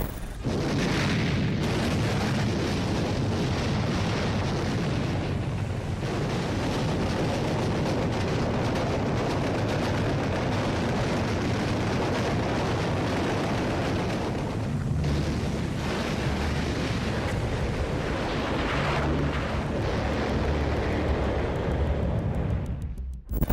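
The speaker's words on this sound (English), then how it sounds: "The power of the cannons shattered the silence of a calm morning" Heavy naval cannon fire and explosions pound the D-Day beaches on a calm morning, a dense, continuous roar of booms and blasts that stays loud throughout with no speech.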